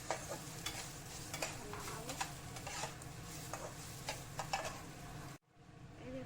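Gram-flour-battered soya chunks with ginger and garlic paste fry in a pan with a steady close sizzle, broken by occasional stirring clicks, until the sound cuts off abruptly near the end.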